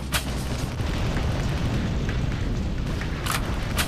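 Energy gun shots in the Hard Truck Apocalypse video game, heard as loud booming blasts with short sharp bursts standing out over a constant heavy low rumble of engine and combat noise, with no talking.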